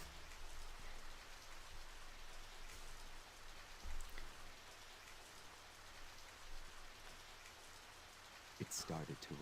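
Steady rain falls in the role-playing video game Radiant Historia: Perfect Chronology on 3DS, a quiet, even hiss with faint patter, a few brief louder sounds near the end.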